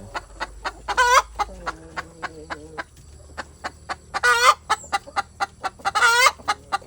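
Laying hens on an egg farm cluck steadily in short repeated bursts, with several louder drawn-out squawks rising above the flock's chatter.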